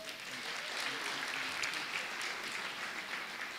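Audience at an investment conference applauds, a steady, even patter of many hands clapping throughout, fairly distant and moderate in level, with no speech over it.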